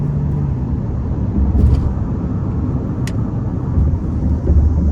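A 2024 Hyundai Tucson Hybrid accelerating hard out of a corner, its engine droning loud and steady from inside the cabin over broad road rumble, with a couple of faint clicks from the paddle shifters.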